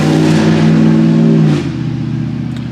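A loud truck engine with an 8-speed transmission and no muffler revs hard and close for about a second and a half, then drops back to a rumbling idle.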